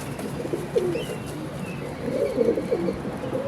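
Low, murmuring pigeon coos come in a few soft phrases over a constant outdoor background noise.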